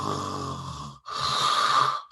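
A voice imitates snoring: two drawn-out, rasping snore breaths, close and fairly loud, separated by a short pause.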